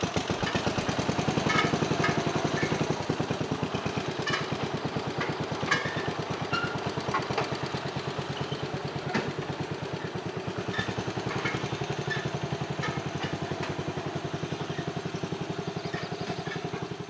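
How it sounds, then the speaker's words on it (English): A vintage tractor engine labours steadily while pulling a small loaded trailer of firewood up a hill, a loud, close, continuous rapid chugging throb with mechanical rattles throughout. "You can see the tractor went right up it, no problem."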